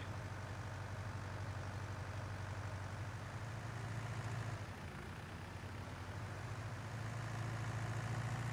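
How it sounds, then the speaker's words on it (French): Steady low engine drone of a tractor in Farming Simulator 19, idling and running continuously at moderate level with no talk, a slight dip midway before resuming. "Le tracteur va aller tout seul vider sa remorque."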